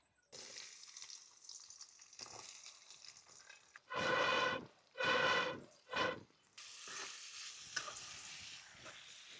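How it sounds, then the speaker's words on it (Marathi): Curry leaves dropped into two spoons of hot oil burst into three loud crackling sizzles in quick succession, set against a quieter stretch of soft kitchen noise before and after. "कढीपत्ता टाकते कडीपत्ता टाकला"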